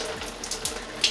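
A small water pump pushes water through a 3D-printed sprinkler nozzle fed by a silicone tube, giving a close, continuous splashing hiss with small gurgling surges.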